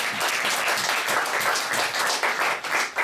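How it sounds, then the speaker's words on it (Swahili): A church congregation applauding during a sermon, dense continuous clapping that fills the whole stretch at a fairly loud, even level. "Kama unaamini pigia Yesu makofi mazuri."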